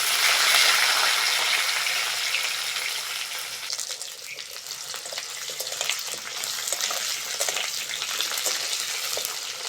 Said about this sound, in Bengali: সবজিগুলোর মধ্যে প্রথমে আলুটা দিয়েই ভেজে নেব